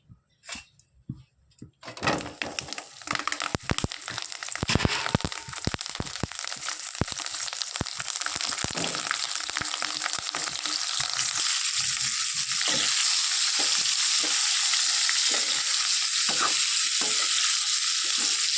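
Chili peppers drop into hot oil in a pan, bursting into a loud crackling, spattering sizzle after a brief quiet handling moment, then settling into a steady, dense frying hiss with irregular pops.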